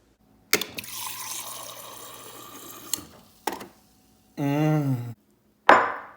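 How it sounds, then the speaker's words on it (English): Water pours in short bursts, one with a rising gurgle as a container fills, between clunks and pauses. "And now, water."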